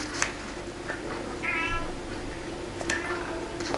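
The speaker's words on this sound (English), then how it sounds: "I'm sorry that my cat is meowing." An indoor house cat meows a few times, short plaintive cries spread across the moment, heard over a steady low room hum while paper is handled nearby.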